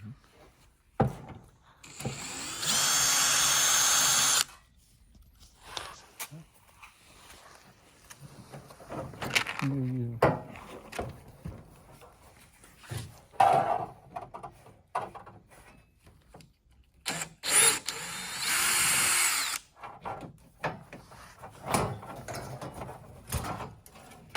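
A power drill unscrews the bolts holding the panel of a Zoom Digital HH-Series display, letting out two loud, steady whirring bursts several seconds long with quieter clicks and handling noises in between while a person talks.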